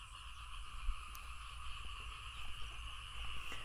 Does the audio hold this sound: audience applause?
no